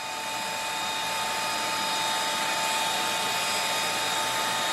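A hair dryer blowing hot air onto a curled rubber part from a car wheel arch repair, a steady loud whir with a constant tonal hum running throughout.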